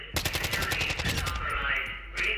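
Rapid machine-gun bursts in the video game DMZ, a dense run of sharp shots for well over a second before tapering off, with a brief shout and background game sounds.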